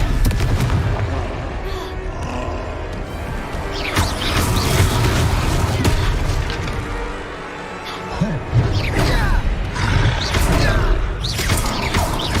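In Hogwarts Legacy, a Confringo fire spell explodes amid combat, heard as several booming blasts and crashes over the game's background sound.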